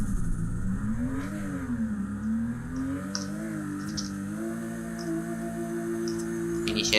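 A racing car engine in a drifting video game revs up and down, its pitch rising and falling before holding a steady high drone, with faint clicks over it.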